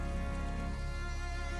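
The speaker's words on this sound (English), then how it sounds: "It's been drizzling all night here in Manila." Steady drizzle falling through the night on a muddy, pothole-filled slum street in Manila, a soft, even wash of rain with faint patter and low background hum, no talking.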